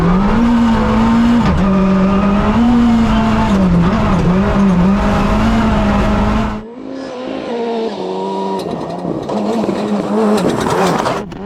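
A 380 hp Mitsubishi Mirage rally car roars at high speed through a fast section of a rally course, its pitch rising and falling through gear changes, then fading briefly before revving hard again.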